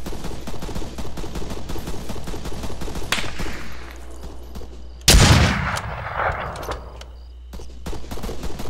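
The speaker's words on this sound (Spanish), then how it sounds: "pero nos siguen disparando" Rapid gunfire in the Arma 3 insurgency shooter: dense bursts of shots, then a loud explosive blast with a long rumbling tail before distant firing resumes.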